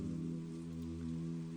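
Steady rain falls in the video game A Place to Hide, a soft, even patter with a low droning background, faint and continuous throughout.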